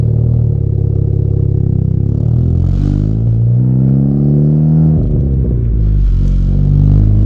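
A tuned car engine revs loudly and close up, its tone climbing steadily through slow, unhurried gear shifts, with a brief dip and rumble at each change before the pitch rises again; no one speaks.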